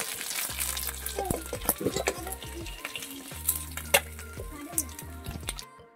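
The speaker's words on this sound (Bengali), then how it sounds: "এই যে মাথাগুলো হালকা হালকা ভাজা করে নেব" Fish heads frying lightly in hot oil in a pan, a loud steady sizzle broken by scraping stirs and occasional clinks of a utensil against the pan, ending abruptly.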